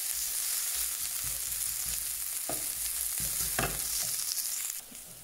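Onions sizzle over high heat in a pan for a tuna quiche, a continuous close frying hiss. Occasional scraping stirs break it up, and it drops off quieter at the very end.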